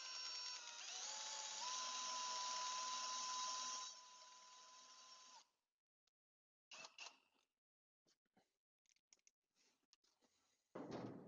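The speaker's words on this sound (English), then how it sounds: "So we can do that, or we can connect in the drill" A high, steady mechanical whine runs for several seconds, shifting pitch once, then cuts off, followed by scattered clicks and clatter.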